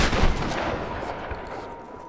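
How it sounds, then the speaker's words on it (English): A single loud shotgun blast in the video game Tomb Raider (2013), sharp and close, followed by a decaying rumble and fading reverberant tail. "you have to use the shotgun here"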